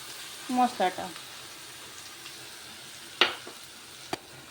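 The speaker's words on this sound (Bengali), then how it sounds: "মশলাটা দিয়ে কিছুক্ষণ নাড়াচাড়া করব, যতক্ষণ তক্ক এটাও তেলটা না ছেড়ে দিই।" Masala stirred into a tomato and onion paste in hot oil for katla fish curry, giving a soft, low sizzle with a few spoon scrapes and one sharper clink near the end, plus a brief faint voice early on.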